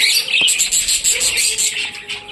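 Dense, high-pitched chirping and twittering from a group of budgerigars, including rainbow and opaline budgies, continuous and fairly loud with overlapping calls close by.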